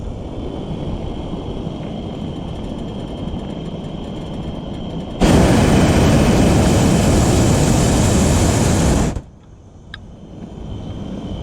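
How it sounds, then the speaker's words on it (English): Loud, steady helicopter engine and rotor roar that swells sharply louder for a few seconds, then drops back to a lower drone. "Rotor's going on the helicopter there."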